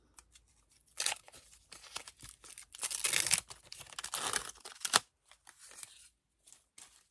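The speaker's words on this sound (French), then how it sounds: "Donc j'ouvre ma pochette." Foil Panini Disney sticker packet torn open by hand: a few seconds of close, crackly tearing and crinkling in bursts, then quieter rustles.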